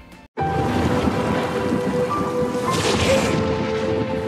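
Heavy rain pours steadily through a film scene's thunderstorm, a loud dense hiss with rolling thunder swelling partway through, after a brief quiet gap at the very start.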